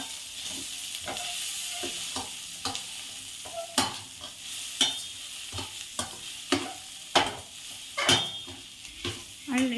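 Onion, tomato and egg stirred together in a hot pan for egg Maggi, a steady sizzle broken by repeated spatula scrapes and knocks against the pan, close by and growing busier and louder as the stirring continues.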